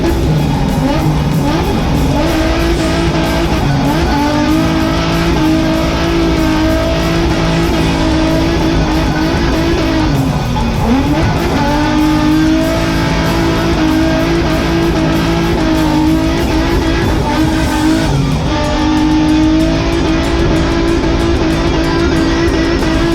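A drift car driven hard in a budget build session, engine roaring and revving continuously with tire squeal as it spins, loud and close throughout with brief dips in pitch.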